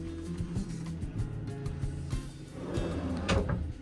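Drawers in a cruise ship cabin on the new 2025 Star Princess being opened and closed, a series of close wooden knocks, slides and thumps at an irregular rhythm with no talk.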